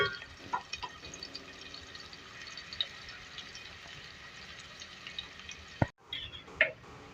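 Onions fry gently in oil until golden, giving a soft, steady sizzle with faint crackles and an occasional louder clink of utensils.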